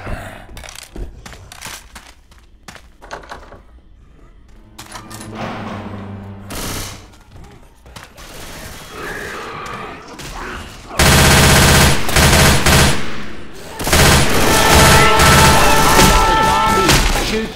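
Shotgun blasts in the zombie game Left 4 Dead 2, loud, rapid bursts of gunfire coming in dense clusters over game noise, heaviest in the second half.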